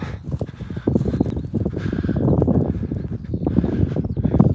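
Horse near a castle in the Scottish countryside, hooves clip-clopping in a steady uneven rhythm, close and fairly loud, with outdoor ambience and no talk over it.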